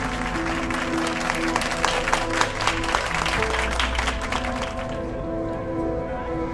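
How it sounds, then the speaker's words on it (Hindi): Enthusiastic audience applause follows a woman's remarks at a public event: dense, steady clapping fills most of the stretch, then thins and fades near the end, with some crowd voices mixed in. "इनके लिए जोरदार तालियां।"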